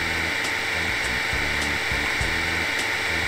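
A steady, loud whirring drone of a vacuum cleaner in The Sims 2 DS, a continuous hum with a faint rhythmic pulsing and no pauses or talking.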